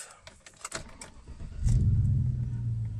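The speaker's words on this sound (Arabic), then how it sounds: "نشغل ونشوف" A Chevrolet Silverado pickup, just after a throttle body cleaning, cranks briefly amid light clicks and rattles, then catches and settles into a loud, steady low engine rumble up close.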